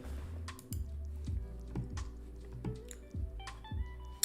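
Keys clatter on a computer keyboard in a quick, uneven run of close, crisp taps and clicks with small pauses between bursts, no speech over them.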